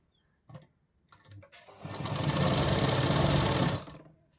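A sewing machine stitches a katori blouse piece: a few brief taps and short starts, then one steady, close run of stitching lasting about two seconds before it winds down.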